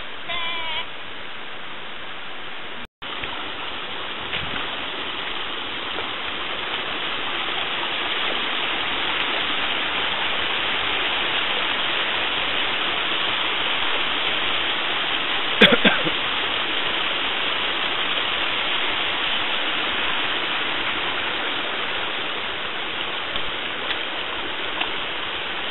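A cold river waterfall on a midday hike roars as a loud, continuous broadband rush of falling water, steady and close for the whole stretch.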